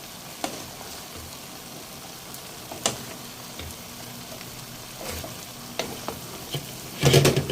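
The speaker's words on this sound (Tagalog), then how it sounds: "Ilalagay na natin yung cream of mushroom. Mix lang natin." Chop suey stirred in a pan with cream of mushroom: a low simmering sizzle broken by sharp, irregular utensil clacks and scrapes, close up, ending in a louder burst of vigorous stirring.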